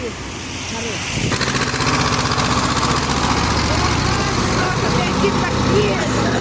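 A T-25 tractor engine starts up low and rough, then runs steadily at close range with a throbbing, pulsing chug, while voices talk over it.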